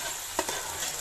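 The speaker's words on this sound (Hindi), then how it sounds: "एक से दो मिनट हम इस मसाले के साथ इसको पकाएंगे" Chicken korma for a deghi-style shahi korma cooks in spice masala, a soft steady sizzle with one brief stir of the spoon near the middle, quiet and close with no talk.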